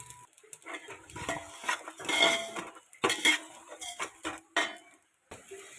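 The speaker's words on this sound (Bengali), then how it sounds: "আমি এগুলো একসঙ্গে সসপ্যানে ভেজে নেব হালকা" Panch phoron whole spices, including black cumin, whole fenugreek and radhuni, dry-toasting together in a saucepan for mango pickle, with close metallic scrapes, clinks and stirring of a utensil against the pan in uneven bursts.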